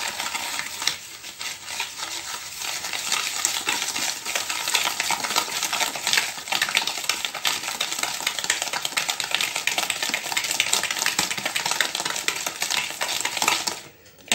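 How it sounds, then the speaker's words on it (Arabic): Honey cake batter being stirred in a bowl, a continuous close scraping and swishing of a utensil against the bowl, steady and even throughout with no talk over it. "كنخلطو مزيان"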